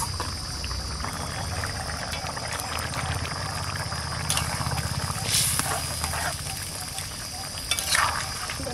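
Pumpkin curry simmers steadily in a pan as pieces of tangra fish go in, with a few brief splashy bursts of bubbling rising over the constant low cooking noise.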